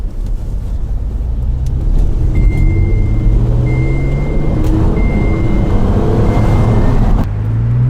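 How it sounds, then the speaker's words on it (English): A 2007 Alfa Romeo 159 saloon with a General Motors V6 cruises on a dual carriageway motorway, a steady loud road and engine drone with tyre roar heard from inside the cabin, a rising tone sweeping through midway. "So here we are driving along on a dual carriage motorway."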